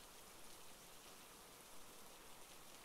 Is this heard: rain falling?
yes